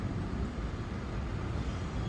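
London street traffic makes a steady broadband rumble and hiss, continuous and moderately distant with no distinct events.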